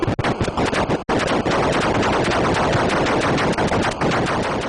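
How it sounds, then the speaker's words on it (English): Rapid-fire shooting from the Atari 2600 version of the arcade shooter Defender, a loud, continuous stream of electronic gun bursts with one brief gap near the start. "here in Defender you could practically machine gun your enemies"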